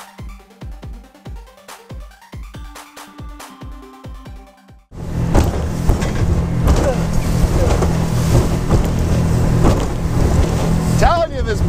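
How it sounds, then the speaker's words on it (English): A boat's engine drones steadily as the hull slaps and rushes through water, with loud, continuous spray noise after a quieter opening of scattered tones. "I'm telling you, this boat just cuts right through it."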